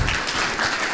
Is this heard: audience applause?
yes